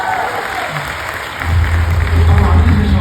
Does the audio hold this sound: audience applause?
yes